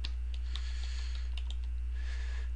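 Light clicking of keys on a computer keyboard as a search term is entered, a quick faint run of taps over a low steady hum.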